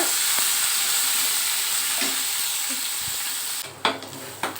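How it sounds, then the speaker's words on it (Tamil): Green chilli, ginger and onion sautéing in a pan for plantain puttu, a steady close sizzle throughout, joined near the end by a few sharp scrapes and stirs of a spoon against the pan. "பச்சை மிளகாய், இஞ்சி, அதுக்கப்புறம் வெங்காயம் எல்லாத்தையும் போட்டு நல்லா வதக்கிடணும்"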